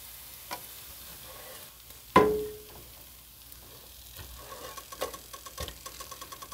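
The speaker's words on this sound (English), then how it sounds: "I'll just keep frying up my tortilla slices" Soft, steady sizzle of tortilla slices frying in oil with faint crackles, interrupted by one sharp clatter and a few light ticks and taps.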